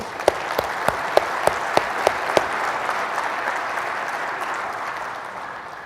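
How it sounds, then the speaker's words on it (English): Full audience applause at a public transportation conference general session for rail safety and security award winners, a loud sustained roar of clapping with several sharp nearby claps at the start before it slowly thins. "Let's give them a round of applause"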